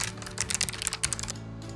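Fingers type on a computer keyboard in quick, irregular bursts of close, crisp key clicks over a low background hum, slowing briefly near the end.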